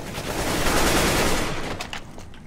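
Automatic AK rifle fire in a video game, heard as a dense continuous burst of shots that swells and then fades over a couple of seconds, with no talking.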